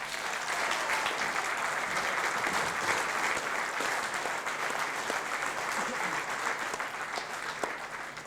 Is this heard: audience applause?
yes